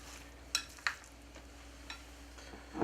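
Garlic, parsley and breadcrumb mixture stirred by hand, giving a few soft scraping and tapping sounds spread out over a quiet room background.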